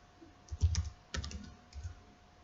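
Keys on a computer keyboard are typed in two short quick bursts and then a lighter final cluster, close and fairly quiet, with no talking.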